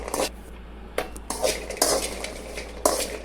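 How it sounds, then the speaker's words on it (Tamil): A spoon scrapes and clinks against a pan as 100 grams of cashews are dry roasted and stirred, in irregular bursts of nearby metallic scraping separated by brief pauses, with no talking. "100 கிராம் முந்திரி உள்ளே சேர்த்து இதை நல்லா வறுத்துக்கிடுவோம்."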